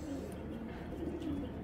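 A big pigeon kept in a pair for sale coos softly and steadily, its low throaty calls repeating close by with no talk over them.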